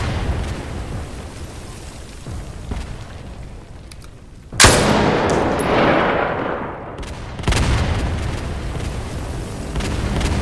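Gunfire and explosions rage in a War of the Worlds combat video game, a loud, dense, continuous barrage punctuated by a heavy boom midway and another surge shortly after.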